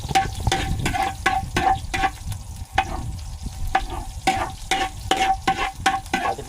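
Garlic sautés in a hot pan, a steady close sizzle of frying with repeated scraping stir strokes in a regular rhythm. No voices.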